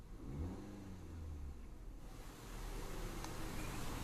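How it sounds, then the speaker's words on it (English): The 2.0T engine of a 2014 Audi Allroad revs, rising from a low burble into a fuller, steady rumble, heard fairly quietly with no speech. "once it does, it really has a nice little burble to it."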